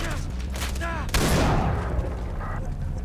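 Gunfire in the video game Far Cry 3, a dense burst of shots with a sharp loud volley near the middle, trailing off under game effects and a talking voice.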